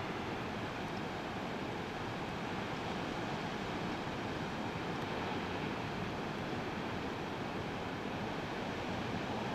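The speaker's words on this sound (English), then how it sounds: "This is called Stump Beach." Ocean waves wash steadily into a cove at Stump Beach on the Sonoma County coast, a continuous broad surf roar heard from a distance with some wind noise and no voices.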